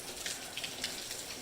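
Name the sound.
rain falling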